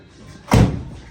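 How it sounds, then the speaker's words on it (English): The door of a 1974 Camaro is shut with a single loud, close slam and a deep thud that dies away quickly. "they really don't know how to shut a door properly on a 74 Camaro"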